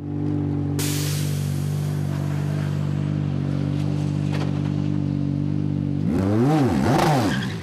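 A GT3 race car at the Nürburgring 24-hour race pulls out of the pits after a tyre change, driver swap and refuel, its engine droning steadily, then revving hard in rising and falling sweeps as it accelerates away, loud and close.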